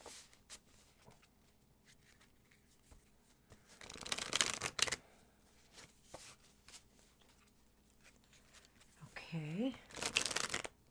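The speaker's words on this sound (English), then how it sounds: "I want them mixed up and shuffled well" Tarot cards are shuffled close by in two loud riffling bursts separated by quieter handling and soft rustles, with a brief spoken word and some talking mixed in.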